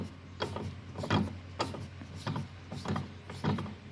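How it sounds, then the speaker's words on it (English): A socket turns a bolt on the rear wheel bearing of a front-wheel-drive Jeep Patriot, making a steady, evenly spaced run of close mechanical clicks, about two per second. "Let's go ahead and put the socket on it to get a better grip."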